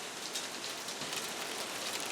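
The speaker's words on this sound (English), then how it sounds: "this hail's getting quite large now." A dense, steady patter of hail striking a hard surface, constant and close, with no voices.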